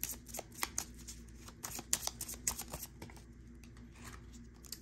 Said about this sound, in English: I just moved those cards.